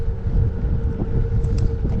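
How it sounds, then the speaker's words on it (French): Strong headwind buffets the microphone of a cyclist riding an exposed, open road in Morocco, a steady loud low rumble of wind noise throughout with no voices. "il y a un gros vent de face"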